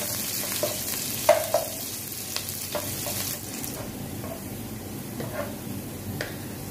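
Chopped onions fry in a pan until browned, a soft continuous sizzle with a few sharp clicks and scrapes of stirring, fairly faint and close.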